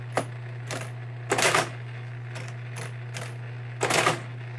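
Mechanical clatter from a 1923 Marchant EA desk calculator as its keyboard-clearing mechanism works: two loud, rattling bursts of gear-and-lever noise with lighter clicks between them, close up over a steady low mains hum, no talking.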